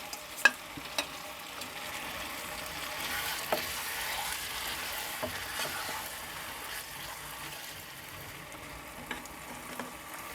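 Capsicum stir-frying in a pan for a restaurant-style mixed vegetable dish, a steady soft sizzle with occasional clicks and scrapes from stirring, fairly quiet and continuous with no voices.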